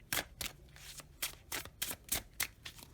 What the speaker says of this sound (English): I'm shuffling, tuning into you.